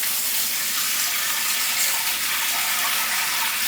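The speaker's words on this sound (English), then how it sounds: "we rinse them both together until it becomes clear water" Steady running water pours and splashes continuously as mung dal and rice are rinsed together, a close, even hiss with no pauses.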